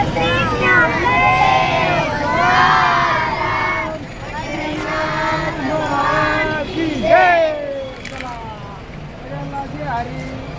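A large crowd of pilgrims gathered for darshan fills the air with dense, steady babble, with many voices shouting and calling out close by throughout.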